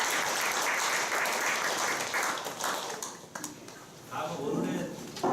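Audience applause at a Uijeongbu administrative innovation committee forum, a sustained round of clapping that thins out and then swells again, with speech over part of it.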